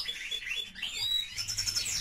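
Pet canaries chirp and trill in a breeding setup, a string of quick, high-pitched tweets and short song phrases, fairly close and clear over a quiet room.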